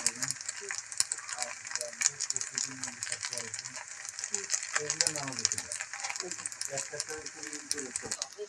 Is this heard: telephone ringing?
no